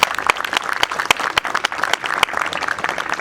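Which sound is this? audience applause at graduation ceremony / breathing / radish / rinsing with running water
audience applause at graduation ceremony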